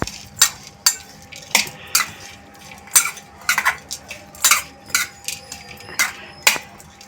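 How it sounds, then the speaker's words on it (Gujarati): A spoon stirs and mixes corn bhel with tomatoes and carrots in a bowl, producing close, rhythmic clinks and scrapes that repeat roughly every half second, with no voices. "હવે આપણે બધું મિક્સ કરી લઈશું."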